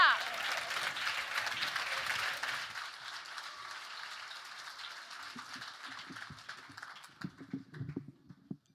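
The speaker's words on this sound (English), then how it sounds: "Let's give him a round of applause as he comes up" An audience at a young adult forum applauds for about three seconds, a broad wash of clapping that fades out, followed by quieter shuffling and rustling as someone walks up, with talk over the start.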